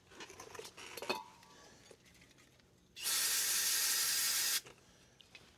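An aerosol can of brake lubricant sprays onto a car's brakes in one steady hiss lasting about a second and a half, close and loud. Soft clinks and handling noises of the can and tools come before and after.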